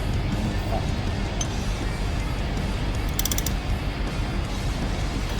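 Nuts and bolts being tightened by hand with a ratcheting tool on a 2005–2008 Toyota Hilux 1KD-FTV EGR blanking plate, a steady close mechanical creaking and clicking with a brief burst of sharp ratchet ticks partway through.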